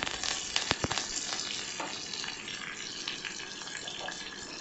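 Curry leaves and green chillies crackle in hot oil for pepper rasam, a close, steady sizzle with a few sharp pops near the start and no voices.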